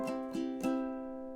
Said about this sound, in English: So nice and soft with those strums.